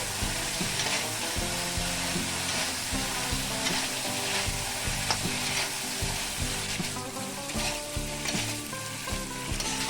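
Masala paste frying in a pan over a low flame for a Bengali drumstick chorchori, giving a steady dense sizzle throughout with bursts of crackle and stirring scrapes, close and constant.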